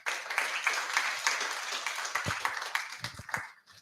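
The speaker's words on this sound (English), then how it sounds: "Once again, another round of applause for Miss A." Steady applause from an audience at a commemorative event, a dense patter of many hands clapping that continues for several seconds before tapering off at the end.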